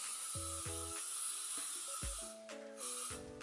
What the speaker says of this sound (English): So I'm going to just spray this all over my hair.